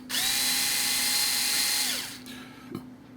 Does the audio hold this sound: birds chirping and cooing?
no